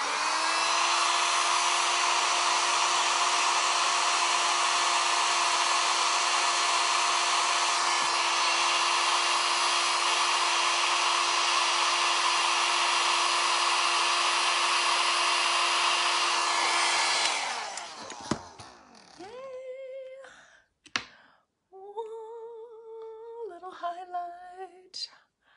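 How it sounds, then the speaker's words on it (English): A hair dryer blows steadily and loudly close by for about seventeen seconds while makeup is being applied, then shuts off and someone speaks. "let me blow dry this."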